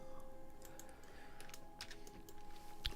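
Computer keyboard typing during work on a sanding jig: soft, quiet key clicks tapping in an irregular rhythm over a low electrical hum, with a sharper click near the end.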